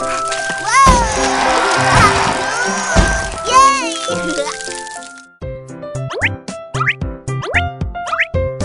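Cartoonish rain and splashing effects from a Baby Panda kids' weather game: bouncy plops, drips and sloshes, mixed with bright game tones and a cheerful voice.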